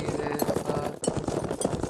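A horse in a video game, its hooves clopping in a quick, uneven rhythm close by over low game background noise.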